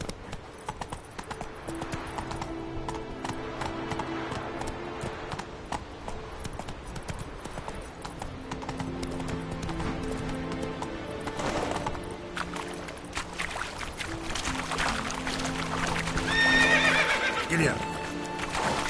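Horse galloping in The Witcher 3 video game, steady rapid clip-clop of hooves with occasional neighs and whinnies over a constant ambient bed, while a voice speaks now and then.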